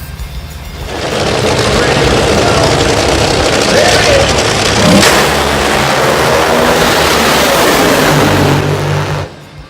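A Top Fuel dragster roars down a drag strip in Australia, a loud, sustained, raspy engine blast that builds in after a second, holds at full power for about eight seconds, then cuts off abruptly.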